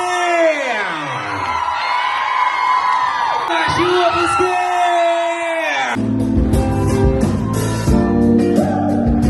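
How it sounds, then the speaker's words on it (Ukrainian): A concert audience at a performance in Kropyvnytskyi cheers loudly with sustained whoops and shouts, and the noise carries on without a break as a fuller, denser crowd roar takes over partway through. "Більше гучних овацій!"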